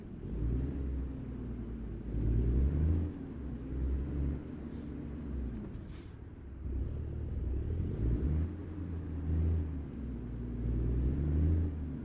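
A Mack truck engine in American Truck Simulator rumbles steadily at low pitch, swelling and easing as the throttle changes, with no voices over it.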